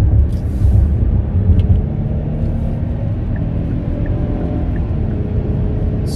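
Engine of a 2023 Hyundai Palisade Calligraphy with 291 horsepower and an 8-speed transmission, heard from inside the well-insulated cabin while driving as a steady low rumble and road hum, with no talking.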